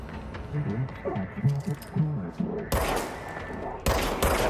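Gunshots in the video game Control, a voice talking briefly before two loud, bright bursts of firing break in, each sustained and crisp.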